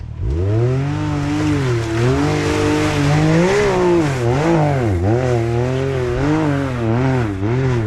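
Side-by-side off-road vehicle with a turbocharged engine accelerating hard on an overland trip, the loud engine note sweeping up and down through repeated revs, close and continuous for several seconds with no talk.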